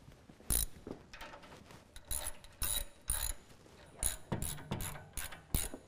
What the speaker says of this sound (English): Now we're just going to tighten everything down.